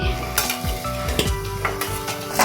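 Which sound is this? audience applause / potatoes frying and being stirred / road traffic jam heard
potatoes frying and being stirred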